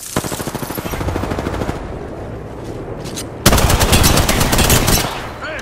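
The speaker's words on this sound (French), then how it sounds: "on me tire dessus" Rapid automatic gunfire in the Apex Legends battle royale on the Olympus map, a dense rattling burst that stops, then a second loud volley of sustained shots, close and continuous with no talk.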